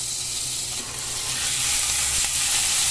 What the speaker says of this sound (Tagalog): Kakutsayin lang po muna natin itong ating giniling hanggang siya makita po natin siya na medyo brown